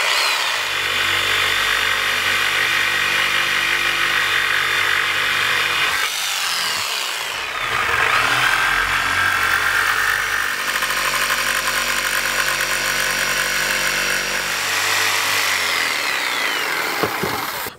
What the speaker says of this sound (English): Now that I've traced out the handles, I can use the jigsaw.